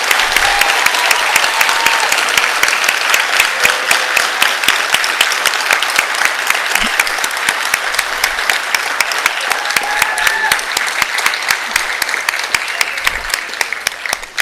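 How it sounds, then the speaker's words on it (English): An audience at a school board meeting applauds students with loud, sustained, dense clapping that runs steadily throughout, with a few sharper claps standing out nearby. "let's give all of our students a big round of applause"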